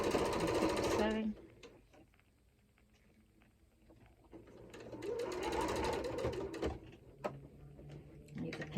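A sewing machine stitches fabric with lace trim, running in a steady buzzing burst at the start, then stopping and starting again after a pause, close and loud, with a voice speaking briefly in between.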